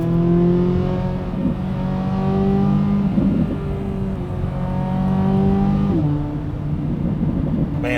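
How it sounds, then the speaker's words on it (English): A Chevrolet Corvette C8 Z06 engine drones and revs through the gears, pitch climbing then dropping at each shift, heard steadily from inside the moving car. "Just listen to the tunes of this car for the remainder of this drive."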